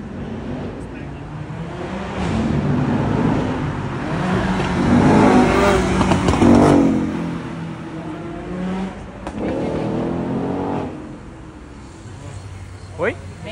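A McLaren Senna in Marlboro livery revs up on a street, the engine note rising and swelling in a couple of bursts, partly under Portuguese chatter from nearby people.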